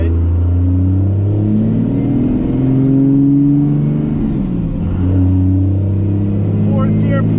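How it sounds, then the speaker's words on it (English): A turbocharged truck engine with a 5-speed manual accelerates hard through the gears, its loud, steady roar climbing in pitch, dropping at a shift, then rising again up close. "I would hate to daily it, but the turbo sounds so good."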